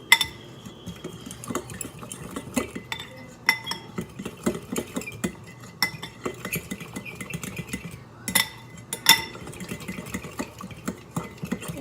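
A fork clinks and scrapes against a bowl while mixing ingredients, with irregular metallic taps and stirring scrapes close up over about twelve seconds.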